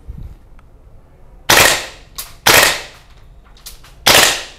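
An airsoft gas blowback rifle fires four sharp, loud cracks, irregularly spaced and each followed by a short decay, with quiet between shots.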